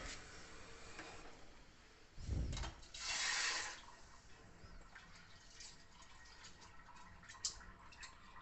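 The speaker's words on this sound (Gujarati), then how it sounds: "હાથ ધોઈ દીધા" Hands are rinsed under running water, short splashing bursts of a stream hitting skin and a basin amid quiet room tone, with a few faint drips afterward.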